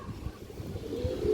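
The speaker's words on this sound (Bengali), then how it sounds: "এই যে দেখেন ইন্ডিয়ান একটা নাজরা কালদম নর কবুতর, খুবই চঞ্চল কবুতরটা" A male Indian Nazra Kaldom high-flyer pigeon coos briefly and close, a soft rhythmic low pulsing with no talk.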